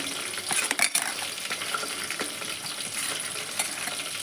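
Onions frying in oil with chillies for chicken curry, a soft steady sizzle with a few clinks and stirring scrapes, close and without talk.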